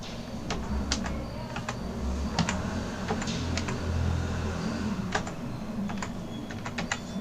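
Someone typing on a computer keyboard, irregular bursts of quick key clicks at close range over a low steady hum.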